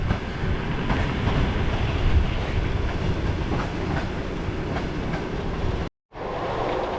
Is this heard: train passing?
yes